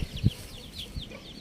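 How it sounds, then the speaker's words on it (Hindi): A rooster and hens cluck softly while foraging outdoors, with short, scattered clucks near and far and one louder low cluck early on. "अहाँ देख रहल छी, मुर्गा मुर्गी चरै छै।"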